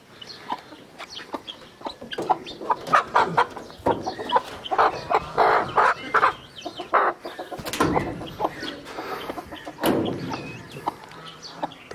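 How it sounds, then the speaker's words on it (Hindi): Aseel chickens cluck and squawk close by in a village setting, a busy run of short, irregular calls with occasional louder bursts and rustling. "और ये जी हमारी मुर्गी है, तो अभी से हम निकालते हैं बाहर।"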